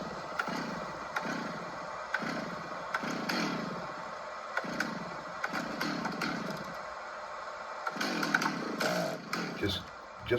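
A Stihl chainsaw runs in repeated rhythmic revving bursts, each rising and dropping back, with a rough buzzing engine tone and scattered clattering toward the end.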